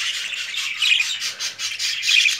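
Budgerigar chicks squawking inside a cage, a dense run of harsh, high chirps and squawks from several birds, close and steady, with no talking.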